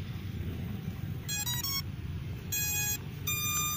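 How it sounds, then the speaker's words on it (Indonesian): An SJRC F11 4K Pro drone remote gives three short bursts of electronic beeps while connecting, clear over a low background hum. "Tadi bunyi titit berarti udah nyambung ya"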